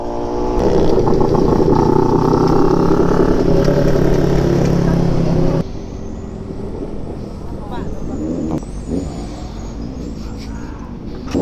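A 1000cc big bike's engine runs loud and close with a strong revving drone, then drops to a lower, rougher idle partway through, with clattering and other traffic noise behind it.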